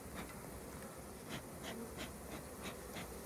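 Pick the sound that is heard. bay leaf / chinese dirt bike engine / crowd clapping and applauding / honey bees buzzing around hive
honey bees buzzing around hive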